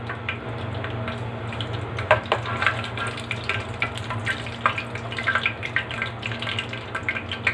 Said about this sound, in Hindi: ऑयल के अंदर एक बड़ी इलायची, दालचीनी के 2 टुकड़े और लौंग 4 अदद डाल देती हूँ।